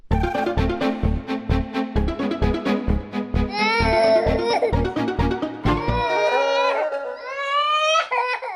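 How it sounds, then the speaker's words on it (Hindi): A baby wails in rising, warbling cries, first over a thumping rhythmic beat, then on its own. "ये बच्चे के रोने की आवाज कहाँ से आ रही है?"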